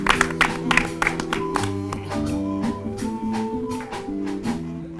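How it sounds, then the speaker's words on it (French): At the ORTB Sur les pavés de l'amour 2018 show, the audience claps together in rhythmic bursts over sustained music, loud at first and then continuing as sharper scattered claps over the melody. "On applaudit tous ensemble"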